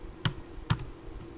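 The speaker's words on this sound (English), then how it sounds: "Control C on my keyboard" Two crisp keyboard key presses, close and distinct, about half a second apart over a quiet background hum.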